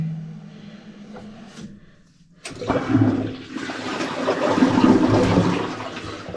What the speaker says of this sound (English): Just want to see if this will flush properly.